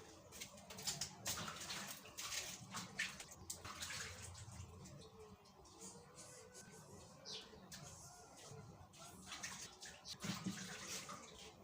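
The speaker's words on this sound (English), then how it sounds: "let me go wash my hands and I'll be back" Tap water runs steadily while hands are washed, a continuous close hiss of splashing water with faint bird cooing in the background.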